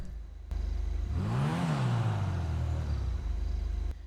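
Volkswagen Golf MK2 engine in GTA 5 revving once, rising and falling in pitch over a steady idle drone, loud and close, with no talk.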